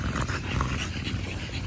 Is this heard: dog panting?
yes